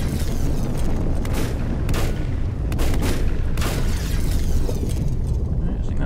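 Pistol fire in the Volcanoids game: a rapid string of sharp, loud shots cracks out at uneven intervals over a dense, rumbling background, with a voice talking faintly underneath.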